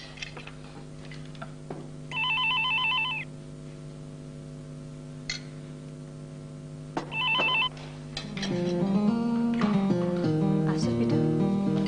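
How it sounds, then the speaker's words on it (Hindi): A telephone rings in two short electronic trills separated by a pause, over a steady background hum, followed by music swelling in. "अरे देखो जरा, फोन आया।"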